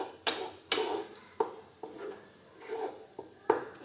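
A spoon knocks and scrapes against a pan while ragi laddu mixture is stirred, giving about seven sharp irregular taps with soft scraping between, close and fairly quiet.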